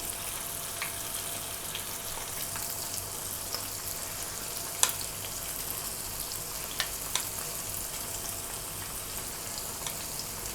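Orange chicken pieces deep frying in hot oil until golden brown, a soft steady sizzle running throughout with a few faint crackles and pops, fairly quiet and close, no talking.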